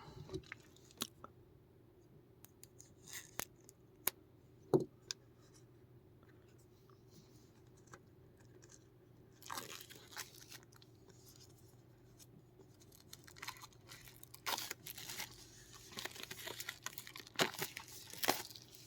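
Plastic shrink wrap torn and peeled off a 4K Blu-ray steelbook, with faint crinkling and scattered crisp rips and clicks, quiet and close, growing busier toward the end.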